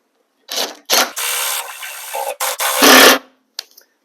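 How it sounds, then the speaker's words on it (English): A fender bolt on a Honda Civic is tightened by hand tool, with several close, sharp bursts of ratcheting and grinding separated by short pauses, then a few faint clicks at the end. "Alright, so I tighten it all the way down"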